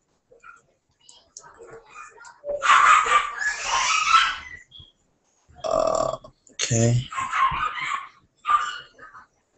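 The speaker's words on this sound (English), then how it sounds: "Now you got the fucking dogs fighting or something outside." Dogs barking and scuffling outdoors, heard in loud irregular bursts at a moderate distance, with a person speaking briefly nearby.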